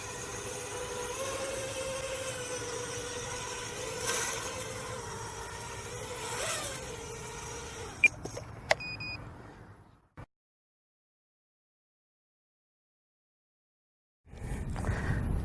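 A small quadcopter drone's motors hover with a steady tonal whine and hum, then a few sharp beeps. The sound cuts off into several seconds of silence before a new burst of noise starts.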